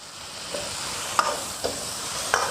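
Century egg and soy sauce are stir-fried in a wok with garlic and fermented black beans, a steady low sizzle broken by three or four sharp scraping clinks of the spatula.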